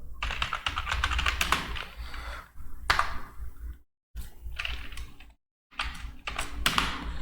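Computer keyboard typing while entering a voucher in Tally Prime accounting software: quick, uneven clusters of close key clicks, broken by two brief silent gaps.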